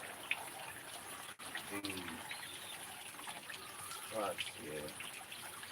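Water trickles and splashes steadily onto garden soil while plants are watered, a soft continuous pour running under a person's speech.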